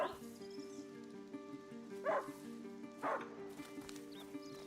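Two or three short, sharp yaps from a small dog in the video game A Plague Tale over a steady musical background, spaced about a second apart.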